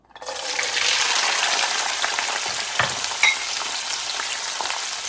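Peeled, chopped garlic for pickle hits hot oil and sizzles at once into a loud, steady frying hiss with a few faint clinks, close by and with no talking.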